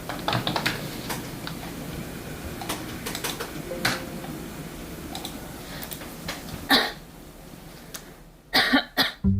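A grown daughter coughing in short, scattered bursts, with sharp isolated coughs spread across the span and a louder cluster near the end, alongside faint tapping sounds.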